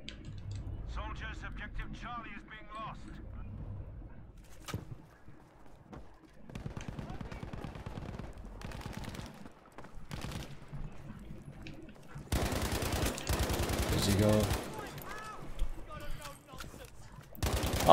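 Automatic rifle fire in the Battlefield 5 online shooter, an STG-44 in multiplayer: rapid bursts and sustained volleys of gunshots, with a loud dense fusillade near the end, mixed with player speech between bursts.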